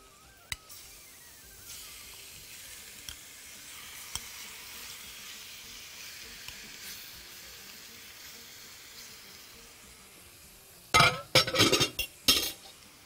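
Chicken breasts seasoned with black pepper cook in a pan, giving a faint, steady sizzle for most of the time before a short cluster of loud clinks and clatter from utensils against the pan near the end. No one speaks.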